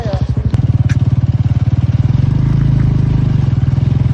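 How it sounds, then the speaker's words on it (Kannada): A motorcycle engine bogs and labours with a steady low, rapid pulsing while the bike is stuck in mud on a rough road, loud and close throughout. "ಇಲ್ಲಿ ನಮ್ಮದು ಬೈಕ್ ಸಿಕ್ಕಾಕೋತು ಮಣ್ಣಲ್ಲಿ"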